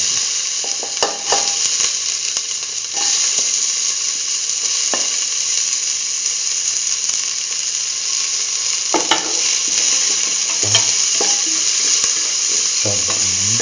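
Onion pieces frying in hot oil in a pot, a loud continuous sizzle with occasional stirring clinks and scrapes of a utensil against the pot, no talking.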